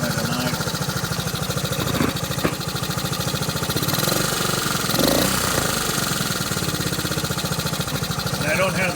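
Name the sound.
1969 Honda CT90 motorcycle engine idling inconsistently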